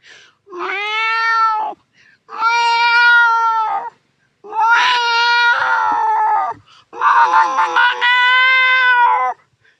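A man imitates a cat, giving four drawn-out, wailing meows in a row with short pauses between them, loud and close with no other sound.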